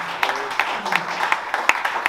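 A congregation at a church conference claps, with a run of distinct claps at a steady pace under a faint voice and room murmur.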